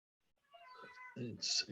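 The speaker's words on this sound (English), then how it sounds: "my cat's yelling in the background" A house cat yells in the background of a remote meeting, giving a couple of drawn-out, rising meows, moderately loud and close to the microphone.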